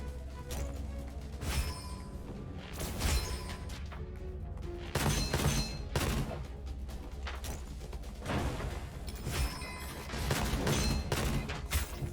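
Gunfire rattles in the first-person shooter Gunfire Reborn, bursts of rapid shots and impacts in irregular clusters over a game soundscape, with no talking.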